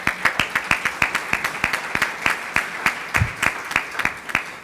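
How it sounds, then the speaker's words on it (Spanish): Audience applause fills a hall at a passenger transport congress, a steady burst of rhythmic clapping from many hands, loud and close, with no speech over it. "el aplauso es para ustedes"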